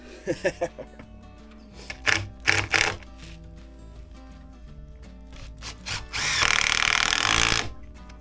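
A power driver tightens four fasteners on a whole house water filter in a crawl space: short buzzing bursts in quick succession, then one longer, louder whirring run near the end.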